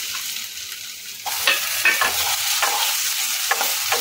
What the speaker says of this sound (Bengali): গ্যাসটাকে মিডিয়ামে রেখে আলুটাকে ভাজবো, যাতে আলুটা সেদ্ধ হয়ে যায় সেরকম ভাজা ভাজবো